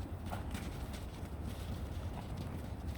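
A horse trots on a windy day, with a rapid, even clip-clop of hooves close by over a constant wind rush.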